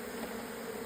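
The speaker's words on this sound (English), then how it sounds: "Oh wow, there's a massive clump of bees." Close, steady droning from a huge cluster of bees being smoked, many wings buzzing together in a brief unbroken burst.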